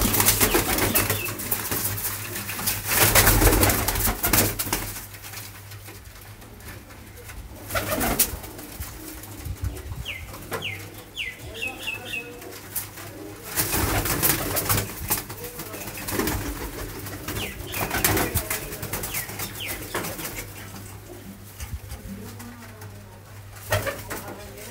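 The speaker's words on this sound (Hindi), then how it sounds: "बहुत ही नायाब कबूतर हैं ये" Rare fancy pigeons coo softly in a loft, a few low repeated calls set against an uneven, fairly noisy background with a low steady hum.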